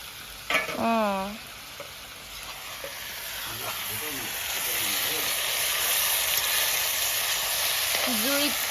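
Meat sizzles and fries in a pan with a steady crackling hiss, while a voice speaks briefly over it now and then.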